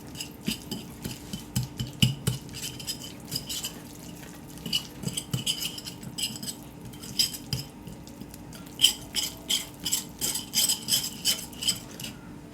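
A spoon stirring butter and Nestlé cream cheese cubes together in a bowl for a cinnamon roll sauce, with repeated rhythmic scraping and clinking against the dish, close and moderately loud.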